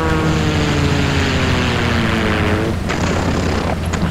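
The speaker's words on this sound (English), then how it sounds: "There's planes!" Propeller aircraft drone steadily overhead in World of Tanks, a loud continuous engine hum with harmonic tones that holds for about three seconds before a shift in the mix.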